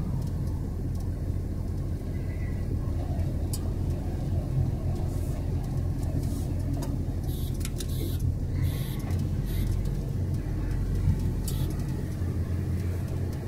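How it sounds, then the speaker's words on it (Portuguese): A truck descends a winding highway section under roadworks in eighth gear with the engine brake engaged, giving a constant heavy low rumble with some rattling clicks overhead, close and steady throughout. "Tô descendo aqui em oitava marcha. Freio motor acionado"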